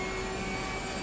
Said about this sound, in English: Oh, I just love listening to that Porsche.